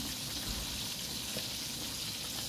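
Ginataang langka cooking in a pot as chopped siling labuyo chili peppers are stirred in, giving a soft steady simmering sizzle, faint and continuous with no voices.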